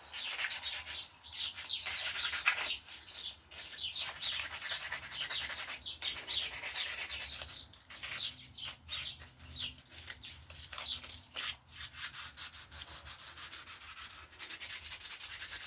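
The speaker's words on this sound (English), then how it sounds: "Just going to rub them down with a bit of wet and dry sandpaper." Motorbike bar ends are rubbed down by hand with wet and dry sandpaper, making steady rhythmic scratchy strokes up close. Faint bird chirps sound in the background, and no one speaks.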